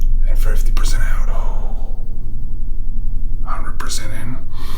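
A person takes deep breaths in and out as a breathing exercise, each breath a loud, close, airy hiss.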